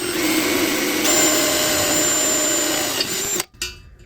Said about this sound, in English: I'm gonna drill 2 holes in this plate and then cut a slit in there for the blade.